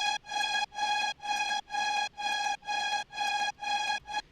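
A single synth note from the Nexus plugin pulsing in a steady, even arpeggiated rhythm, about two repeats per second, bright and buzzy with short gaps between hits.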